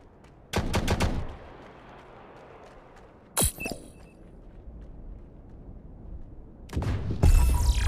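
Gunfire in a shooter video game comes as a few sharp bursts of rapid shots, one single loud crack in the middle, and another burst at the end over a low background.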